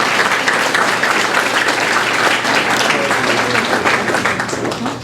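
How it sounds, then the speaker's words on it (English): Loud, sustained applause from an audience at a college science poetry contest, dense clapping that carries evenly for about five seconds before easing off slightly. "So let's give them a hand of applause for this event."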